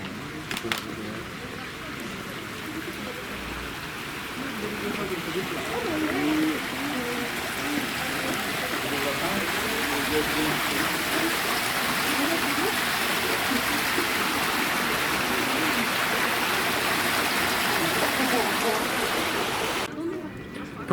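Holy water flowing steadily over rocks at the Basilica de Guadalupe in Mexico City, a constant close babbling stream that runs unbroken for about twenty seconds with no voices over it.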